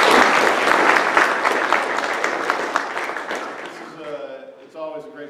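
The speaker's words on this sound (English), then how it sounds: "How about a round of applause for Sandy and the board?" Applause from an audience at a community group's monthly meeting, a dense burst of clapping that fills the room and then thins out, giving way to a voice speaking near the end.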